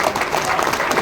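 An audience at a business talk claps for a speaker, a dense, even burst of applause from a crowd, close and continuous.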